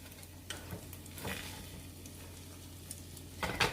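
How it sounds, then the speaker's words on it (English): Egg omelet cooking in a frying pan for a keto meal, a faint steady sizzle broken by occasional soft scrapes and taps as a spatula works around the edges, ending in a louder clatter. "So I'm going to start coming around with my spatula, come around the edges."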